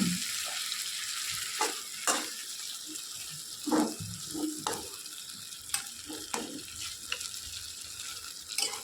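Food fries softly at medium heat in a pan after gravy is poured in, with a steady low sizzle broken by intermittent scraping and clacking as a utensil stirs it, faint and close.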